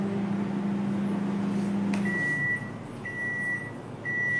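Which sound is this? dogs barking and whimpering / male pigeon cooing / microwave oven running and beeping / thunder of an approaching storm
microwave oven running and beeping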